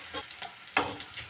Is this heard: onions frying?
yes